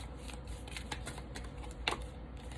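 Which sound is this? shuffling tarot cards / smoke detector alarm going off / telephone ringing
shuffling tarot cards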